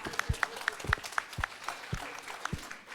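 An audience at a 20Books Vegas 2023 author panel breaks into brief clapping, a short burst of scattered hand claps with a few rhythmic thumps, close and moderately loud.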